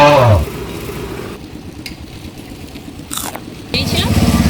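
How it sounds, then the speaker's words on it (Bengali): Someone quickly eats pani puri (fuchka), with close, crisp crunching and wet chewing that carries on steadily, while soft voices talk nearby. "এ যে স্পিডে ফুচকা খাচ্ছে আমারই ভয় লাগছে"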